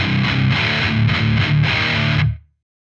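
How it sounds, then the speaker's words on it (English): Distorted electric guitar chords through a Joyo Uzi distortion pedal ring out loud and gritty, with a few strummed hits sustaining for about two seconds before cutting off cleanly. "the highs on some of these distortion pedals can be a little bit abrasive"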